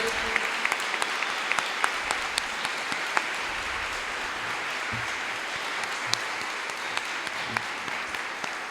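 An audience at the opening of a special education week applauds together, a dense, steady wash of many hands clapping that lasts throughout, with a few sharper individual claps standing out.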